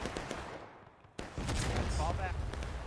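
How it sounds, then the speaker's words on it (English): A single artillery shot going off in a video game battle with period-style weapons, a sudden sharp boom partway through followed by a rumbling tail and scattered gunfire, under a voice. "Why that artillery shot hit nobody?"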